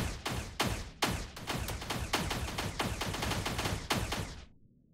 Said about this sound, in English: I'm just going to let my automatic guns take care of this guy